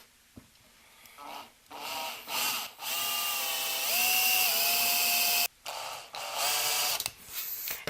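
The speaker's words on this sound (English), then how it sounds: "let's go ahead and drill these holes" A power drill bores holes into a metal amplifier chassis for a compact 5W tube amp, whining in several bursts of rising and steady pitch with short pauses between them, close and loud, with no talking.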